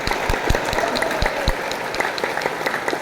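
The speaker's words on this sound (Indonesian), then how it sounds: "Yuk kita kompakan, tepuk tangan." A crowd claps steadily, a dense patter of many hands with a few sharper nearby claps standing out, continuing without any talk.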